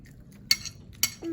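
Utensils clinking against a bowl as food is mixed during vegetarian Korean home cooking: two sharp clinks about half a second apart over a low background, then a brief scrape.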